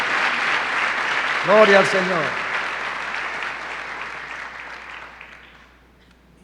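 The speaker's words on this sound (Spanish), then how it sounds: "Denle un aplauso al Señor porque Él está vivo." A church congregation applauds in praise, dense steady clapping that fades away toward the end while a voice speaks briefly over it.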